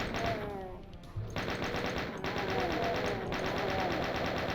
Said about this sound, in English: Now we have the chain gun, we can use it against all of these shotgunners.